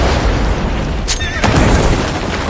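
A cartoon TNT explosion blowing up a mountain, heard as a loud, rumbling boom with a sharp burst partway through, set against a dense, noisy background.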